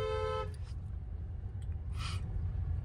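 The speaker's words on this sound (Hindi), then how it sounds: "इसको हॉर्न दो" A car horn gives one short tonal beep during a beginner driving lesson, heard over steady low engine and road rumble inside the car, followed by faint rustles.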